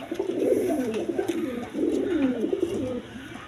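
A pigeon near at hand coos in two soft rolling phrases, low and throaty, with faint background noise and no speech.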